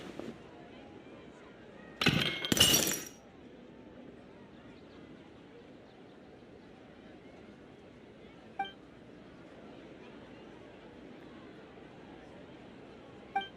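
Porcelain vase shattering in the video game Genshin Impact, a single loud crash of breaking ceramic lasting about a second, then quiet room ambience with faint clinks.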